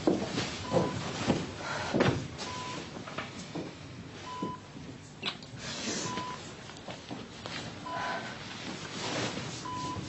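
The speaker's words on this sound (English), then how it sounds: "I'm gonna go and try phoning in again." A telephone is dialled, with six short, evenly spaced tone beeps sounding over a muffled indoor room background.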